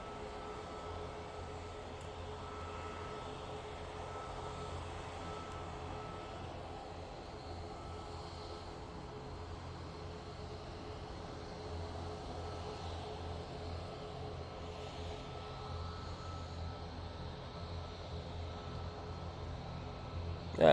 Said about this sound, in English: 777-300 ER for Qatar, making its way out towards us now.